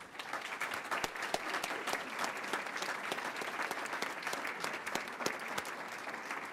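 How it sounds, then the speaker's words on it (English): An audience at a school board meeting applauds for state runner-ups, a steady dense clapping that holds at moderate loudness from start to finish with no talk over it. "join me in giving a round of applause for our state runner-ups"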